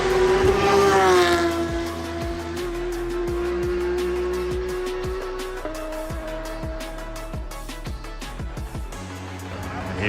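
A hypercar at the Goodwood Festival of Speed roars past loudly up close, its engine note climbing and then shifting through gears as it pulls away, with crowd noise and sharp crackles and pops behind it.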